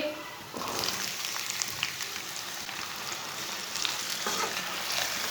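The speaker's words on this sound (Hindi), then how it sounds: "अरबी डाल के इसे 5 मिनट के लिए भून लेंगे।" Taro root (arbi) frying with browned onions in a pan for arbi salan, a loud dense crackling sizzle that swells after a brief quieter opening and holds steady throughout, with stirring noises and no talking.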